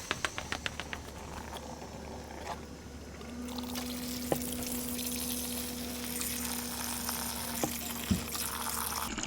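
Coolant and water drain and trickle steadily from the heater core of a 2001 Dodge Cummins 2500 during a flush, faint and close, with a few scattered clicks and taps and no talking.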